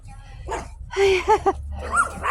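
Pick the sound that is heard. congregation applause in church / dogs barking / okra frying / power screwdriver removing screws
dogs barking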